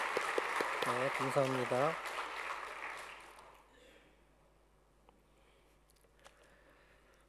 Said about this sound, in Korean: 잠시 다 같이 환영의 박수를 드리겠습니다.